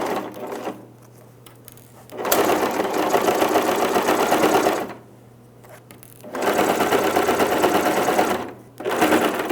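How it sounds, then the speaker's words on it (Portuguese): A sewing machine stitches a jeans hem in two long, steady runs, each lasting a few seconds, separated by short quiet pauses, and then begins a third run. The stitching is close and loud. "Continuo fazendo aqui a costura normalmente."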